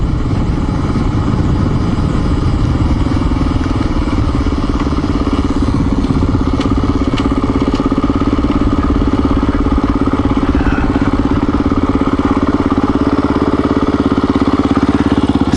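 A Honda XR400R motorbike idles loudly and steadily up close, its low thumping running without a break on a riverside dirt road in north Georgia.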